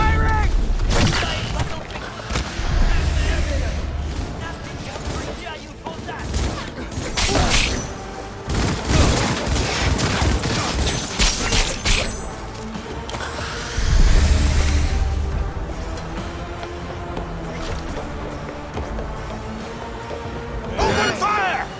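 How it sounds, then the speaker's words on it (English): Chaotic combat in Cyberpunk 2077 with bursts of rapid gunfire, heavy impacts and booms layered over shouting voices and a thumping score, loud and dense from start to finish. "Keep firing!"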